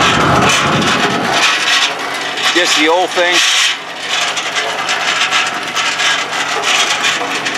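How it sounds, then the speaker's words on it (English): A harsh mechanical rasping and grinding churns continuously from close by, from a Ford tractor's PTO shaft bent about 20 degrees driving a cement mixer, with a short spoken remark partway through. "Right now that PTO is about, 20 degree bend, and you can hear the noise."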